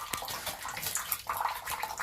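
Shower water running for a green-cheeked conure parrot, a quiet, continuous hiss of spray with small splashes, heard alone.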